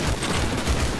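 Sustained gunfire in the video game Battlefield 4, a dense, loud volley of rapid shots with low booms running continuously through the whole second, no voices.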